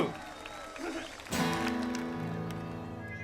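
Concert crowd applauding a band at an anti-extremism show: a low murmur of the audience, then from about 1.3 s a loud burst of sustained clapping and cheering that holds steady to the end under ringing stage music tones.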